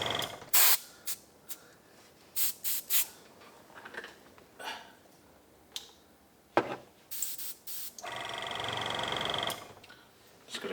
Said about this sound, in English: Just got to keep the spray gun going.